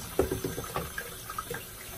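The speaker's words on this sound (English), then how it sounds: "I'm running it under water and getting the soap out of it" Tap water running over a badger-hair shaving brush in a sink, rinsing soap out: a steady, faint splashing wash with small irregular spatters and drips, no voices.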